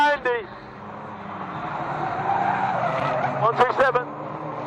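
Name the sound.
race cars skidding at Fleet Raceway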